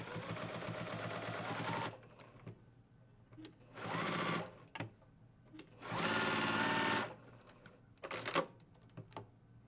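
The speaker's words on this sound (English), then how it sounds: "So now let's stitch out right next to that beautiful stitch that we did with that light gray, that cool gray, with the black." A sewing machine stitches with black thread in three long steady runs, near and loud, with short bursts of clicking and mechanical handling in the pauses between runs.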